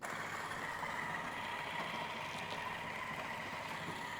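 Coffee grinder grinding beans, a loud steady whirring roar with a broad hiss that holds evenly for the whole stretch, close by with no voices.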